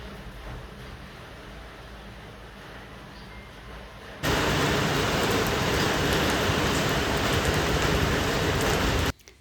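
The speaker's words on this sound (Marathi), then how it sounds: "आता पावसाने छानच जोर घेतलेला होता" Monsoon rain falls steadily at first, then abruptly swells into a loud, dense downpour that roars on for several seconds before cutting off.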